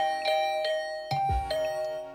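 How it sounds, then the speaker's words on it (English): A video game doorbell chimes repeatedly in quick succession, several bright ringing tones struck over and over, with a soft thud partway through, all close and fairly loud. "I started furiously ringing the bell over"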